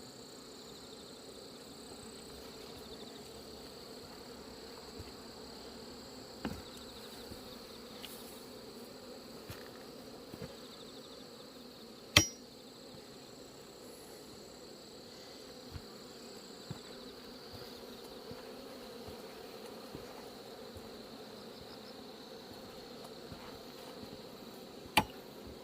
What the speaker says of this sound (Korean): 제가 지금 말벌을 잡으면서 여러분께 두 가지 방법을 보여드렸습니다.